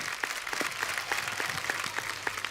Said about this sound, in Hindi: जोरदार तालियां एक बार राज सर और जया मैम के लिए